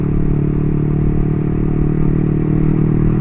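Yamaha R15 v3 motorcycle from 2017, its exhaust held at steady revs with a deep, rounded bass tone, loud and close throughout without pause.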